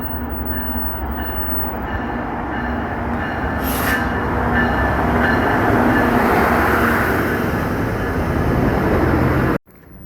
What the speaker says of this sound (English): Incoming right now is another NJ Transit train.